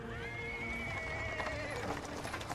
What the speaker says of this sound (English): A cart drawn by a sad little horse appears from around the corner.